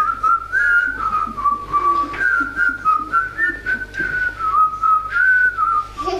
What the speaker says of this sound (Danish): Og hør nu her, hvordan vi alle fløjter skal